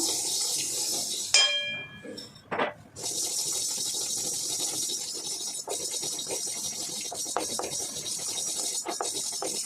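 Mustard seeds and fenugreek frying in a hot pan for mango pickle, a constant bright hiss with scattered small pops and crackles, briefly broken by a clink of utensils near the start.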